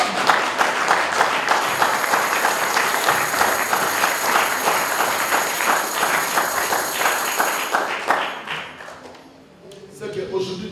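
A church congregation at a healing service applauds in sustained, dense clapping with cheering voices mixed in, holding steady for several seconds before fading out as speech resumes.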